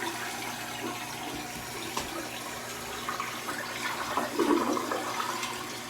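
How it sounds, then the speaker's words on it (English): Household toilet flushing after a repair, a steady rushing wash of water at close range that swells toward the end, with no talk over it. "Flush it."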